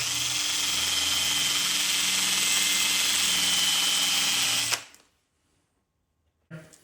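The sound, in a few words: drill grinding an axe edge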